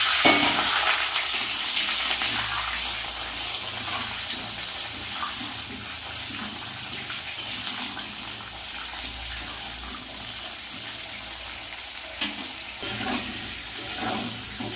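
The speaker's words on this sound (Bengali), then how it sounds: "আলু পটল কিন্তু লাল লাল করে ভেজে নিয়েছি" Potatoes and pointed gourd fry in hot oil in a wok, a steady, close, bubbling sizzle with occasional stirring clatter and no talking.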